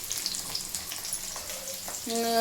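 Oil frying in a pan during village-style home cooking, a steady crackling sizzle that runs the whole time, with a brief humming tone rising near the end.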